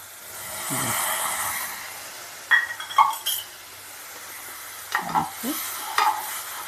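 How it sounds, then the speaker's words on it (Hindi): Traditional spices fry for millet khichdi, a low sizzle under a few separate bursts of stirring, with the spoon clinking against the pan, close and moderately quiet, with no voices. "थोड़ा मसाला भून लेते हैं।"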